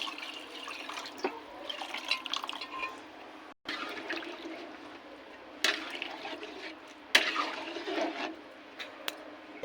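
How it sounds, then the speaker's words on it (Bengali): Water is poured into a cooking pot holding fish head and mung dal, a soft splashing gush with a few sharp clinks, fairly quiet and close, no voices. "দিয়ে দেবো পরিমাণ মতো জল"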